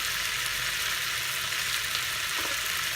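Chinese spareribs in an oyster-based sauce are stirred in a hot pan until caramelized, giving a steady, close, even sizzle throughout with no talk.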